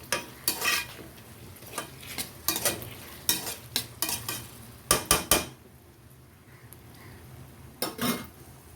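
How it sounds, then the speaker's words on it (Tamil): Ingredients for a taro root curry are sautéed in a pan, with many brisk metal spoon scrapes and taps against the vessel over a faint background sizzle. A quieter stretch comes before a final few stirs. "இதுவும் லேசாக வதக்கிக்கலாம்."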